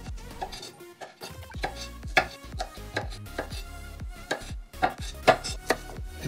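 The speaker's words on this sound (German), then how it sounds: "Gleich darauf schneiden wir das Holzige vom Spargel weg." A knife chops repeatedly through green asparagus on a board, trimming off the woody ends, with sharp, close cuts at an irregular pace over faint background music.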